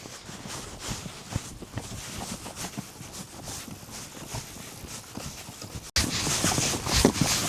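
A horse walks through mountains with a steady, uneven clip-clop of hooves, close and continuous, over rustling and wind-like background noise, with a sharp cut partway through.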